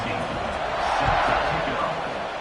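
A football stadium crowd roars in a steady, broad wash of cheering just before kickoff, loud and continuous throughout with no gaps, swelling slightly in the middle.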